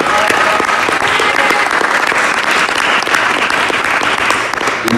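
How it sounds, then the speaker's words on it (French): At a church gathering, an audience gives sustained, dense applause for Marion, a steady roar of many hands clapping throughout, loud and close, with some voices mixed in. "Je vais demander d'applaudir Marion s'il vous plaît"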